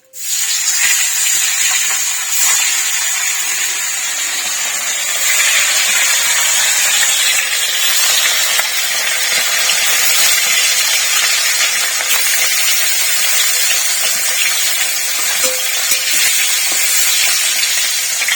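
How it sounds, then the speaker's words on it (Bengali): Pieces of pona (rohu) fish fry in hot oil, giving a loud, continuous, close hiss and crackle that holds steady throughout with no talk. "মাছটা ভাজা হোক,"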